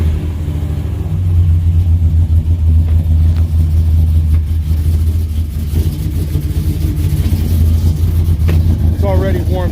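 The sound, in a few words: heads and cammed Ram truck engine cold start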